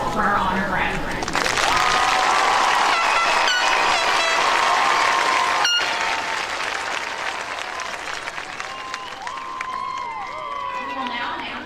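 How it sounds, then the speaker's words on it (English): Audience applause at a high school graduation ceremony: a dense, steady wash of clapping that holds for several seconds and then slowly tapers off, with a few voices heard within it. "Please join me in one last applause for our honor graduates."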